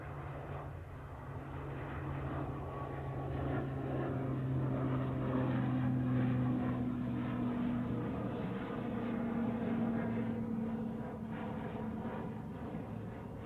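An ATR turboprop airliner of Aer Lingus bound for Dublin passes at Manchester Airport, its steady droning propeller hum swelling and fading with a low tonal whine.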